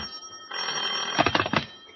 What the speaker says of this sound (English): You sit in the living room waiting for Veronica to finish dressing when the phone rings.